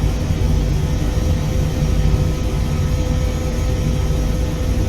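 An Airbus H160 helicopter in a flight simulator lifts off, its engine and rotor making a steady, loud broadband roar with a low-end rumble that holds constant throughout, with no voices.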